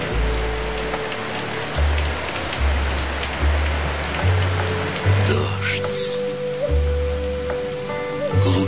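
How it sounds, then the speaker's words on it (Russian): Steady rain on a surface with scattered raindrop taps against window glass, a continuous close patter under a low droning musical bed. "Капли стучат по стеклу, их монотонный ритм отражается в сердце"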